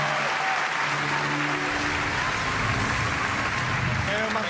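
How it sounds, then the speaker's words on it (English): Audience applause swells at the Ubisoft E3 2019 conference as Marc-Alexis Côté takes the stage, a broad wash of clapping from a large crowd that starts over the end of a voice and continues alone. "Please give a warm applause to Marc-Alexis Côté"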